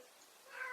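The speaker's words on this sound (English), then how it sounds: "Oh, that's my cat." A house cat gives a single short, faint meow, rising briefly at the end of a quiet moment with no speech.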